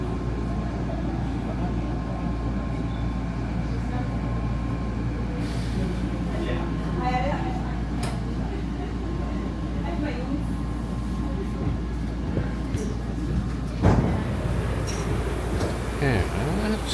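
A Vancouver SkyTrain runs between stations on the way to YVR Airport, giving a steady low rumble and hum with rail squeals, a brief clunk near the end and voices talking now and then over the noise.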